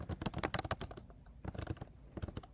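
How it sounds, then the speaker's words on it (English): Rapid, close keystrokes on a computer keyboard, a dense run of sharp clicks with a short pause before the typing resumes, fairly quiet and with no voices. "Is my typing better?"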